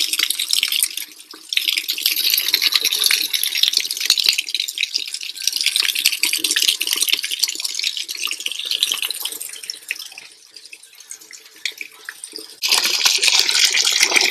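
Cold water runs from a tap behind a house, a steady close splashing rush that dips briefly and then returns loudly, with no talk.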